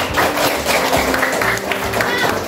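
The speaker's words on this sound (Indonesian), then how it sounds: "Tepuk tangan untuk kelompok 2." Classroom applause for a student group: dense, continuous clapping from many hands that fills the room throughout, with voices mixed in.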